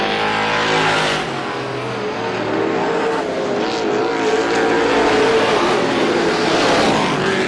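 Outlaw race cars roar loudly around the track at Star Speedway in a continuous, dense engine drone, with shifting revs and pitch as the cars pass close by. No voices are heard over the racing.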